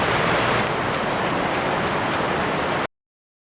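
Rushing Himalayan river water where the Pindar River meets another river at its confluence, a loud, dense, continuous roar of turbulent flow with no voices, cutting off abruptly near the end.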